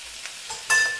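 Tomato paste sizzles and fries in a pan while being stirred, a soft steady crackle that swells into a louder hiss near the end, with no talk.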